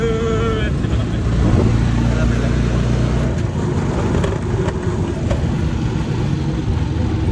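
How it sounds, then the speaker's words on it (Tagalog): A motorized tricycle's engine rumbles steadily from inside the ride, with road and wind noise around it, while people chat over it near the start. "Nasa tricycle na kami."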